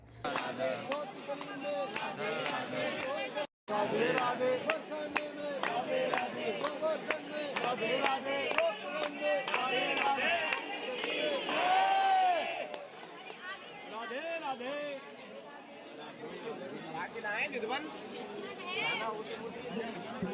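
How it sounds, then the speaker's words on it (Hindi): A dense crowd murmurs and chatters at Banke Bihari temple in Vrindavan, a steady hubbub of many voices close around, with occasional shouts rising above it. "बहुत भीड़ है"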